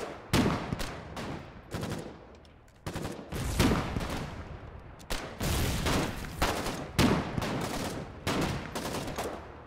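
Gunfire in the war game Foxhole, with sniper rifle shots among dense rapid volleys and machine-gun bursts, loud and nearly continuous with brief lulls.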